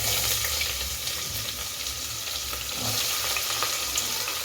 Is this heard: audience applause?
no